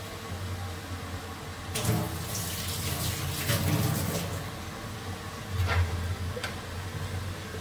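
Boiled water poured from a vessel into a pot of hand-mixed khichuri on the stove, two short splashing pours over a quiet hiss of the burner, with no talk.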